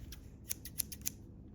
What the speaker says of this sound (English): Decent pair of scissors.